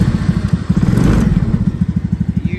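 A Coolster mini jeep's small engine, started in neutral with the key, runs with a steady rapid low putter and rattling clatter, close and loud throughout.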